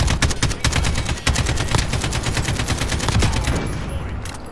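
Rapid automatic gunfire in Call of Duty Modern Warfare during a long-range kill, loud sustained bursts of shots that keep firing nearly the whole time before trailing off slightly at the end.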